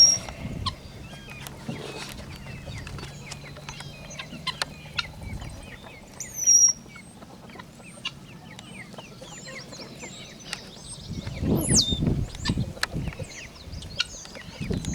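Guinea fowl and chickens on a small farm call in a busy overlapping chorus of clucks and sharp cries, with a louder burst of calling near the end and no talk.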